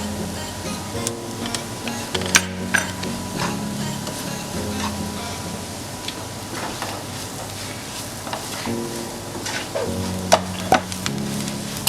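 Ground spices (black pepper, garam masala, turmeric and salt) fry and get stirred in a pan for kappa biriyani, a steady close sizzle broken by regular scraping strokes of a spoon against the pan.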